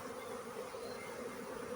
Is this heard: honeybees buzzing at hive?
yes